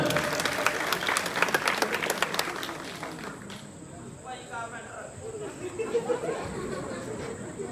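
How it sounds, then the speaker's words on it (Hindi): An audience at a staged performance claps loudly in a brief burst that fades after a few seconds, leaving crowd chatter and people talking in the background with a faint steady hiss. "अग्गू भाई ये तालियां मार दो जोर नाल।"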